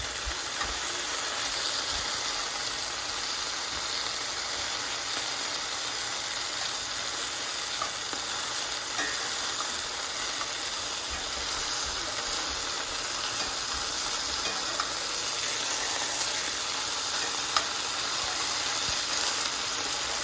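Beef sizzles steadily in a hot pan, a constant loud hiss and crackle that holds without pause, with no voices.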